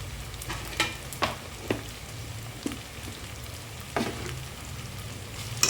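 Pieces of goat head fry in a pan with turmeric, giving a soft, steady sizzle broken by intermittent scraping stirs; nobody talks.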